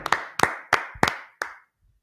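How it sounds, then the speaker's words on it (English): Members of a religious brotherhood class clap in unison, five crisp, close claps at a steady pace, each with a short room echo, stopping into near silence. "Let's clap it up for brother and sisterhood."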